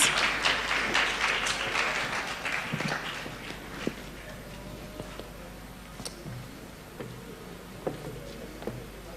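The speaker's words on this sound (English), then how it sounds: "Please, let's give her a round of applause as she comes." An audience at a sustainable-development event in Ghana applauds a presenter, starting with dense, lively clapping that thins into scattered individual claps and faint movement.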